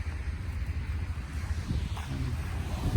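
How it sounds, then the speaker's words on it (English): Strong wind blows outdoors in Livingston, Montana, a loud, continuous low rumble buffeting the microphone with gusty swells. "It's gonna get kind of loud, this wind."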